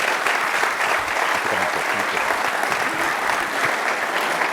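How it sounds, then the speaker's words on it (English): A steady wash of clapping from a large audience, dense and sustained throughout, with faint voices mixed underneath. "let's give a big round of applause for the captains"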